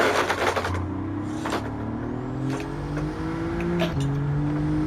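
An Alfa Romeo Giulia GTAm in Gran Turismo 7 brakes hard, the engine note droning and dropping in pitch through downshifts, with brief bursts of tire and mechanical noise, loud and close throughout.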